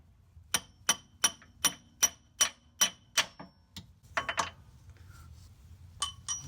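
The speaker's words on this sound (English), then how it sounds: "So put it right here, and then you just hammer it." Sharp metallic hammer strikes on a 2006–2011 Honda Civic Si passenger-side CV axle ring out in a steady series of about nine blows, then a quicker cluster of lighter taps and a few final hits, close and loud.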